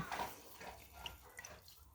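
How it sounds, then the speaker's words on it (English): Folded paper towels are dipped halfway into a cup of water for seed starting, giving faint, soft liquid swishes and small drips across two seconds of quiet. "I'm only dipping half of the folded paper towel in"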